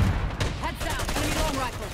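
An enemy marksman fires in the Black Ops 6 video game, with repeated shots and clatter that merge into a busy firefight, and a voice sounding faintly underneath.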